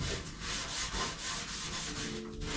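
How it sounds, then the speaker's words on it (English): Coarse steel wool scrubs tar off the body of a 1965 El Camino, a steady close abrasive rasping in repeated strokes throughout, with no voices. "I can just rub it with steel wool."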